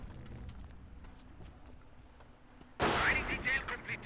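Rifle fire in the Company of Heroes battle erupts late as a loud burst of shots with rattling echoes, following a quieter stretch of distant battlefield noise.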